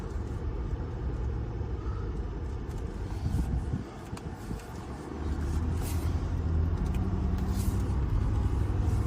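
A car pulls in beside a garden bed, its engine a steady low rumble that swells and holds near the listener, with faint outdoor background noise.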